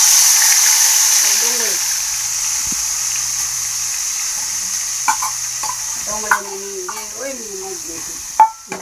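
Tomatoes hit hot oil tempered with mustard seeds, hing, ginger, garlic and chilies for a paneer curry, setting off a loud sizzle that gradually fades as a voice talks and a spoon clinks against the pan.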